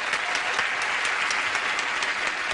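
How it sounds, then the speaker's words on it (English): A game show studio audience gives a brisk round of applause for a new player, dense steady clapping filling the room without a break. "give a brisk round of applause to our new player"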